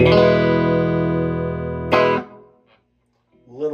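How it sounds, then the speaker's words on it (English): An electric guitar chord rings through a Fender '68 Vibro Champ Reverb amp set to low reverb, sustaining evenly for about two seconds before a second strum and a quick decay into near silence, with a faint note afterward. "right now I have just a smidge of reverb in all three amps"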